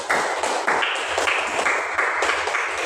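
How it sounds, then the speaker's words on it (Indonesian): Applause from a classroom group for the Bumi team after its presentation during a practical exam session, dense steady clapping throughout, fairly loud and uninterrupted. "Tepuk tangan dulu untuk kelompok bumi"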